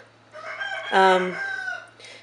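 A rooster crows once indoors, loud and close, its call rising then trailing off over a low steady hum.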